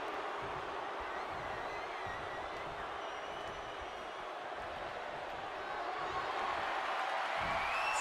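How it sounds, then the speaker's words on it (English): Arena crowd cheering in the WWE 2K23 wrestling game during a WrestleMania 40 tag match, a dense continuous roar of applause and voices that holds steady and swells slightly toward the end. "The WWE Universe audience is showing their appreciation for the action they're seeing."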